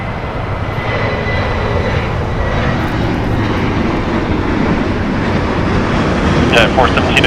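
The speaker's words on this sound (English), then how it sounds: "It's going to be departing here on the closest runway to us, so it's going to be a nice close-up of a 737." A Boeing 737-7 jet departs from the closest runway at LAX, a loud, steady engine roar with a broad rushing, windy texture that stays close and strong throughout.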